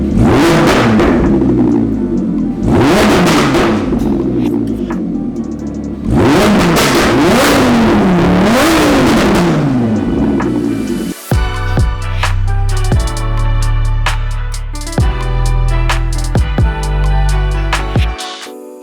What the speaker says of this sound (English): install a Capristo exhaust on a 2017 Audi R8 V10 Plus to make it sound like this.